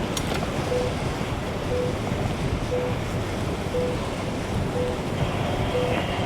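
A BYD Shark ute drives up through a creek, giving a steady broadband rush of water and wind noise that stays loud and even throughout with no one talking.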